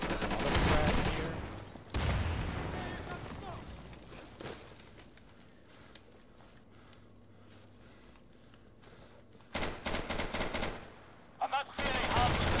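Gunfire in the Insurgency shooter game at a Russian Federation embassy map: loud bursts of shots open the clip, then quieter gaps, then more sharp bursts near the end, with voices in the mix.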